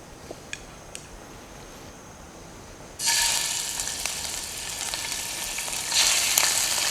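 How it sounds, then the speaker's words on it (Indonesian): Chicken meat lowered into hot cooking oil: a quiet stretch, then a sudden loud, steady sizzle that keeps crackling and swells again near the end, with no talking. "udah mulai panas nih minyaknya. Kita masukin dari daging ayamnya dulu"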